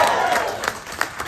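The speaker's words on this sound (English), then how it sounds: "Don't clap too much." An event audience applauding and cheering, a dense clatter of many hands with a few sharper claps standing out, fairly loud and close, trailing off without any speech.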